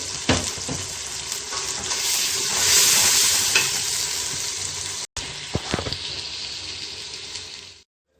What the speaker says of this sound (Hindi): अब इसमें जीरा डाल देते हैं।